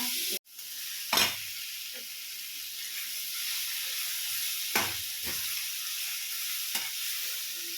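Squid fries in a pan with a steady, loud sizzle throughout, broken by a few sharp clacks of stirring or a spatula against the pan.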